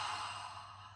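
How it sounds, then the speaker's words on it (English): Yoga ocean breath, a single long, soft exhale pushed out through the mouth, a close airy whoosh that tapers off over about a second with no talk. "You breathe in through your nose, and then we go out through your mouth, and it sounds like the ocean a little bit."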